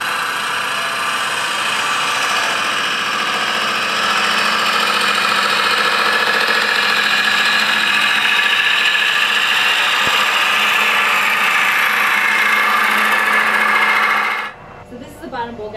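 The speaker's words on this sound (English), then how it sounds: "I'm going to use a bottom bowl gouge. So I bring it through, and when my tool starts to hit the rim of the bowl" A bottom bowl gouge cuts a wooden bowl spinning on a lathe, a loud, steady whirring and scraping hum that holds for about fourteen seconds, then stops suddenly.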